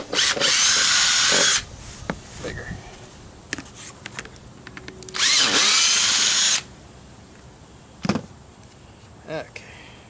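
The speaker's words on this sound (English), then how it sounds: "I'm going to drill these holes out." A power drill whines loudly in two bursts of about a second each, enlarging plastic holes in an RV air conditioner drain pan, separated by clicks, handling noises and a brief spoken word.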